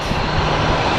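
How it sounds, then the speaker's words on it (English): Jet engines of an Airbus A321 being prepped at an airport produce a loud, steady broadband roar that fills the whole moment without pause. "the noise you are hearing is an A321 that is being prepped"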